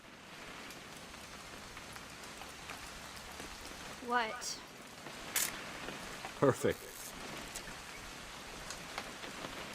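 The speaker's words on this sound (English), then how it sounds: "It's gonna rain the whole weekend," Steady rain falls continuously in the What Remains of Edith Finch video game, a soft, even hiss of drops, with a few brief mechanical clicks and a short spoken exchange over it.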